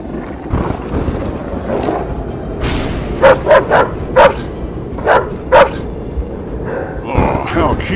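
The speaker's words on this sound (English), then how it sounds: "Oh, how cute, a doggy." A two-headed dog creature lets out a quick run of about six sharp, loud barks in the middle of the scene, over a windy rushing background.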